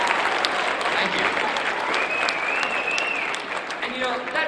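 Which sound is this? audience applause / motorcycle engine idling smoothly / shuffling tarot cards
audience applause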